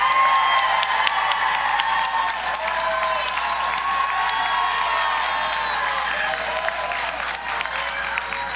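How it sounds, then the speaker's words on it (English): Sustained applause and cheering from a large audience at a New York paid family leave rally, dense clapping with scattered whoops running steadily throughout, loud and close. "Let's give a big round of applause for the Paid Family Leave Coalition"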